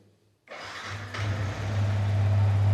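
A Yamaha R15 V3 motorcycle engine cranks and fires after a brief silence, then settles into a steady, loud idle around 2000 rpm, heard close up with no talking.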